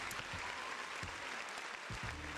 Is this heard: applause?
yes